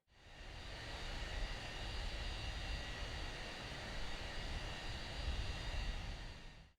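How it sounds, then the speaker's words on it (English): A DC-9 airliner's jet engines run steadily while taxiing in a flight simulator, a continuous loud whine and rumble with no talk over it. "We're just about to taxi out and hold here at Golf 2, ready for departure."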